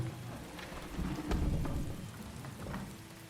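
Steady rain falls with rolling thunder in the video game Farthest Frontier, a dense hiss of drops over low rumbles that swell in the middle and fade slightly toward the end.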